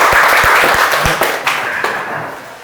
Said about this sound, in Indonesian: Oke, kita kasih tepuk tangan untuk kita.